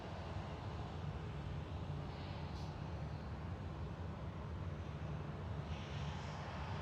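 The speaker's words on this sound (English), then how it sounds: "That was EasyJet to Belfast" An EasyJet jet departing Manchester Airport for Belfast, a faint, distant, steady engine rumble with no voices.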